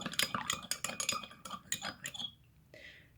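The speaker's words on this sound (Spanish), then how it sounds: "Le voy a poner una cucharadita de azúcar, la disuelvo" A teaspoon stirs sugar into a liquid, dissolving it with quick, close clinks and scrapes of metal against glass for a couple of seconds before a short pause and one softer final tap.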